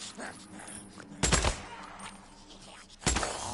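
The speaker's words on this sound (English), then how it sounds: "our suppressor is already dead, so our gunfire is just full force" Unsuppressed gunfire in the video game Days Gone: two loud, sharp bursts of shots about two seconds apart, each standing out clearly over a steady low background of game ambience.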